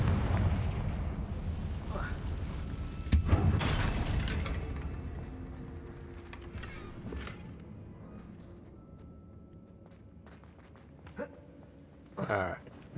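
A Confringo explosion spell cast in a video game bursts with a heavy boom, followed by a decaying rumble and scattered smaller pops, with a couple of sharper bangs near the end.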